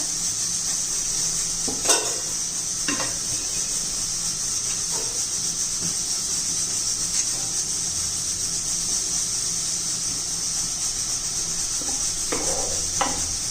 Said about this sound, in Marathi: तेल गरम झाले बारीक चिरलेली मिरची आणि लसूण तेलात घालून घेऊया